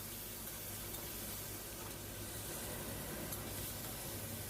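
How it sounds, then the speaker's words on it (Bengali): Tomato pieces frying in a pan with a little salt for a bitter gourd curry, giving a steady, dense sizzle and hiss that holds at an even level throughout, with no talk. "টমেটোটাকে ভেজে নিচ্ছি।"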